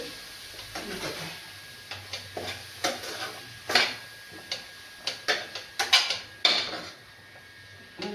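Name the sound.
spice paste (masala) frying in a pan for chicken curry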